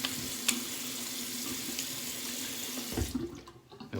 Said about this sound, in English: Just rinse this alum off real quick.